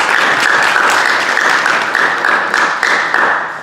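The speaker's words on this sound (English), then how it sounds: "please just give me another round of applause for that" An audience gives a loud, dense round of applause at a career breakfast event, steady clapping from many hands throughout with no voices over it.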